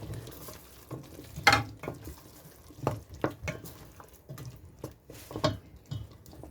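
Carrots and spices frying and being stirred in a pan, a steady soft sizzle broken by repeated scraping strokes of the spoon against the pan, close and alone with no talk.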